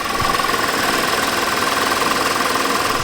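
An Audi A6 Quattro 3.2L S Line with over 200,000 miles idles steadily close by, with a continuous mechanical ticking knock running through the engine hum.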